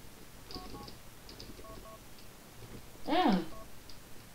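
Mobile phone keypad tones in GTA IV: a few short dual-pitched beeps spaced apart, then a louder burst of tones near the end, faint over low background.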